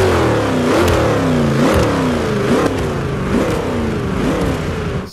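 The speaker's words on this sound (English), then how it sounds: "one of the iconic American muscle cars like Dodge Challenger with its Hemi V8 engine" A loud Hemi V8 engine of a Dodge Challenger muscle car revs repeatedly in Forza Motorsport 5, its pitch climbing and dropping in quick cycles, with a video-game feel and no voices.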